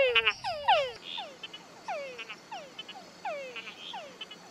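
A frog calls in a quick series of sharp, falling chirps, repeated about a dozen times in close irregular bursts, clear and alone without any talk.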